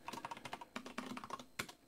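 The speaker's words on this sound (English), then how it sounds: "Make sure I'm not typing my password into a YouTube video." Rapid bursts of computer keyboard typing, close and fairly quiet, a run of uneven keystrokes with a sharper clack near the end, entered into a Linux terminal.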